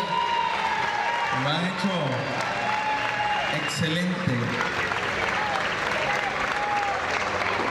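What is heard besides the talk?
audience applause at a school event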